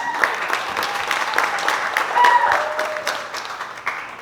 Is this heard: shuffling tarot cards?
no